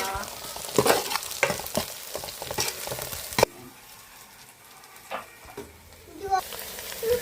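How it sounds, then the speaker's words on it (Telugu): Ground coconut, ginger and garlic masala paste sizzles steadily in a pan for a chicken curry, with scraping stirs and clatter over the frying and a brief voice now and then. "ఈ మసాలా కూడా పచ్చి వాసన పోయేంత వరకు బాగా ఫ్రై చేసుకున్నాం"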